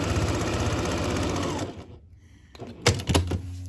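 Sewing machine stitching a fabric face mask seam, a fast close rattling run of stitches that stops midway, followed by a few clunks and a brief restart.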